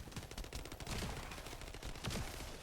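Rapid gunfire while shooting enemies in a video game: dense bursts of shots fired in quick succession, fairly faint and continuous throughout.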